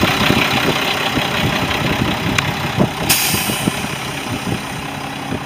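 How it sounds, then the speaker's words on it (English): A 2004 Mack CH613 truck's diesel engine idles up close, a steady low rumble with uneven rhythmic knocking pulses and a couple of brief sharp ticks, no talking over it. "Shot of your engine."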